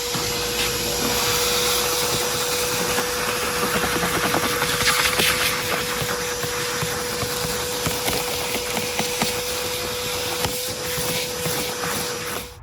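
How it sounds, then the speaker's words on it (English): A shop vac runs steadily and loudly throughout while cleaning out a car's interior, its continuous motor roar and airflow hiss shifting slightly as the nozzle moves, with a few faint rattles of debris being sucked up. "I'm gonna shop vac this the best I can"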